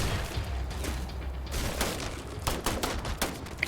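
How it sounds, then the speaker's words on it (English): Rapid gunfire bursts in the sci-fi game Starfield as companion Andreja opens fire, a dense crackling volley with mechanical clicks, loud and continuous, growing sharper toward the end. "Okay, we shoot it once, and Andreja starts shooting."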